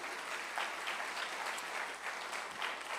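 A church congregation clapping together in steady, dense applause throughout, moderately loud and sustained without a break, filling the room with no distinct voices.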